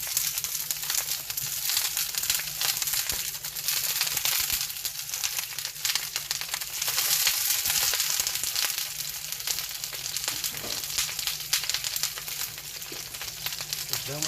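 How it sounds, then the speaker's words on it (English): Chicken pieces sizzle loudly in a hot pan for a Chicken Cacciatore, a dense continuous crackle and hiss that keeps up steadily, close and without pause. "Get a nice sizzle when they hit."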